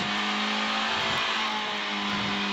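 On-board in a 2008 Subaru rally car, the engine drones loud and steady, with quick rev rises and dips under the close cabin roar.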